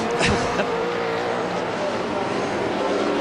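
A V8 Supercar roars continuously nearby while braking at Calder Park in a 1997 race, engine noise and tire sound filling the scene, with a commentator talking over it.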